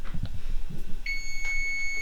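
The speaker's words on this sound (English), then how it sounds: "Wait for the beep again." A kitchen appliance beeps while chickpeas roast, giving one steady electronic tone that starts about halfway through and holds to the end, sounding alone over quiet room noise.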